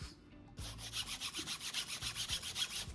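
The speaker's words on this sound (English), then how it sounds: "For this, I'm using this little bit low grit sanding paper." Steady, rhythmic scraping of coarse low-grit sandpaper rubbing back and forth on a hard 3D-printed surface, close up, in fast even strokes after a brief quieter start.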